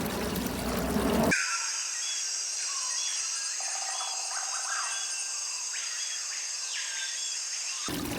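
Water pours steadily into a turtle tank, a continuous bright splashing trickle that runs for several seconds between louder bursts of rushing water at the start and end.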